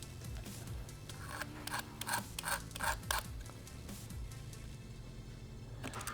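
A blade scrapes with soft rasping strokes along the painted edges of a steel subframe on a 2017+ Honda Grom, the short repeated scrapes close and quiet over a steady background hum.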